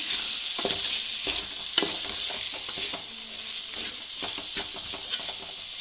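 Banana stem pickle stirred through hot oil in a pan, a steady sizzle with scraping spoon strokes recurring at a loose rhythm, close and fairly loud, with a faint bird call in the background.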